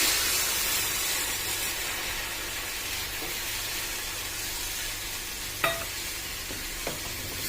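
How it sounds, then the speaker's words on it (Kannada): Tamarind juice poured into sizzling onion gojju in a pan, a steady frying hiss with stirring scrapes throughout and a couple of sharp clinks near the end, no talking. "ಈಗ ಇದಕ್ಕೆ ಹುಣಸೆ ರಸನ ಹಾಕ್ತಾ ಇದ್ದೀನಿ."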